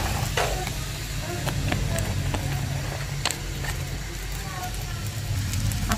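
Fried rice with peas and paneer sizzles and crackles in a hot pan, with scattered sharp ticks and pops over a low background rumble.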